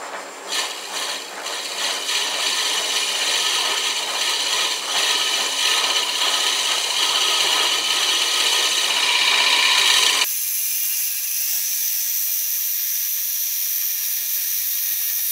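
A wooden travel mug spins on a Shopsmith lathe while carbide cutters scrape it in a continuous, loud, close hiss. Midway the tone abruptly shifts thinner and steadier as the cut changes, and no one speaks.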